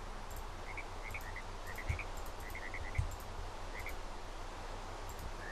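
Frogs in the survival game Westerlands chirp and croak in short clustered bursts, moderately distant and soft, over a steady outdoor hiss with a couple of low thumps.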